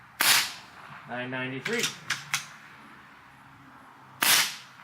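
Umarex Komplete NCR air rifle running on a Notos cylinder fires two sharp cracks, one at the start and one near the end, with a brief spoken number and a couple of clicks between them.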